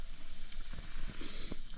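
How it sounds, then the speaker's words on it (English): Steady sizzling and hissing of spices frying in a hot pan on a camp stove outdoors, close by and continuous for a couple of seconds. "So I'll start frying these spices."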